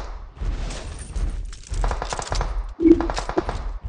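Automatic gunfire in a mobile shooter game, bursts of rapid shots and thuds mixed with game effects, while a player talks over the action.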